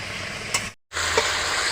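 Pabda fish curry in mustard jhal bubbling and sizzling steadily in a pan, a close, continuous simmer with a brief dropout in the middle.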